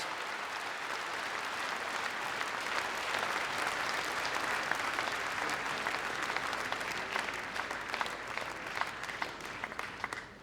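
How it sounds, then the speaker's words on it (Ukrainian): A festival audience at the Pisennyi Spas song festival applauds a singing duo and their accompanist, with long, even clapping that swells slightly mid-way and then tapers off near the end. "Ваші оплески!"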